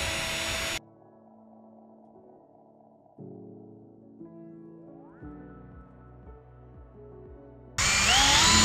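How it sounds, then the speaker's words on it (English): A power drill whirs steadily, drilling into a license plate, its motor pitch stepping up and down through several bursts, with loud bangs of handling at the start and end. "So we're gonna drill it into there so that it doesn't come out"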